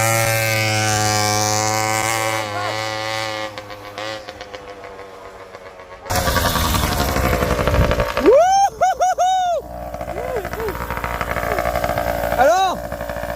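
A Mobylette moped engine is revved toward its maximum of 10,500 rpm. A close, loud buzzing idle rises into sharp whining sweeps of revving that climb and fall several times, with a voice briefly in the mix.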